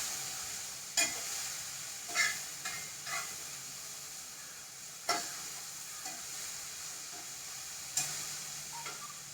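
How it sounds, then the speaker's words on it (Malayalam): Sprouted green gram thoran with grated coconut being stirred in a pan, a steady soft sizzle broken by a few sharp scraping strokes of the spoon at irregular intervals. "നന്നായിട്ട് അങ്ങനെ ഇളക്കി കൊടുക്കാം"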